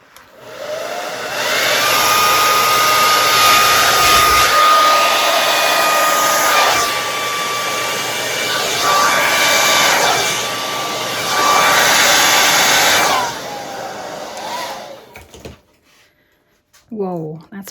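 A hair dryer blows across a Dutch-technique acrylic paint pour, a loud steady whine that runs in two long bursts with a brief dip between, then cuts off near the end.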